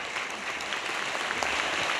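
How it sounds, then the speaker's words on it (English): An audience in a lecture hall applauding Professor PLO Lumumba after his speech, a dense, steady wash of many hands clapping that fills the space evenly without pause. "A round of applause for Professor PLO Lumumba, ladies and gentlemen."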